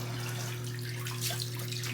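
Cold tap water runs for a rinse during a shave with a safety razor, a steady close splashing hiss over a low constant hum, with no voices.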